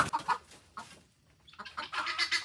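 A hen clucks in short bursts close by, pausing briefly in the middle before a rapid run of clucks resumes.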